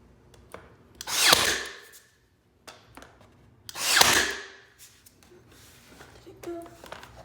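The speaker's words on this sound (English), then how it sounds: "you're supposed to nail directly into the baseboard and not into your flooring." Power nailer driving nails at an angle into baseboard over vinyl plank flooring, two loud bursts a few seconds apart with small knocks and handling sounds between.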